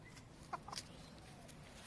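Backyard hens (chooks) cluck a few times in quick bursts over a steady ambient background while they are given mealworms as a treat.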